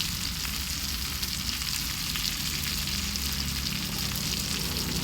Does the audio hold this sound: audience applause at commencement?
no